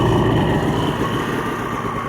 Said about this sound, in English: Letting that engine temperature come up.